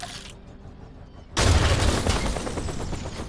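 An explosion booms in the artillery game Worms W.M.D, striking suddenly and loudly after a quiet lead-in, then rumbling and crackling with debris for about two seconds, with no voices.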